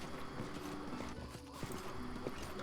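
A pair of frightened ponies in Pathfinder: Kingmaker snort and neigh near a stranded cart, with clip-clop hoof sounds and short nasal bursts repeating at moderate volume through the brief stretch.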